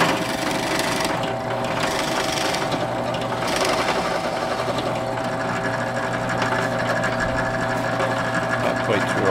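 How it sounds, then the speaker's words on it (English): A 3/8-inch bit bores into a wood pilot hole for T-nuts, a steady continuous whirring drill sound running loud and close throughout with little variation. "we're now able to center the 3/8-inch bit"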